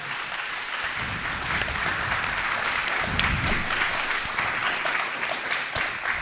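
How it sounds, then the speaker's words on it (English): A crowd at a live debate event in Seattle applauds itself, producing steady, dense clapping that holds for several seconds, full and fairly loud with a few sharper claps standing out. "So please just round of applause for yourself for making this happen."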